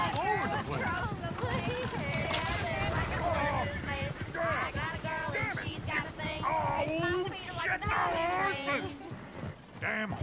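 Horses gallop in the Western video game Red Dead Redemption, with hooves clip-clopping steadily and a horse whinnying while game characters talk over the hoofbeats.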